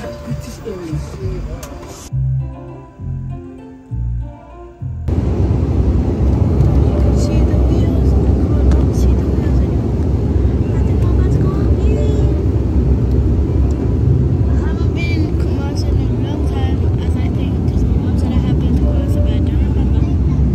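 Steady, loud cabin drone of a Ghanaian passenger plane, a dense broadband roar that holds for most of the clip after a quieter opening, with people talking over it.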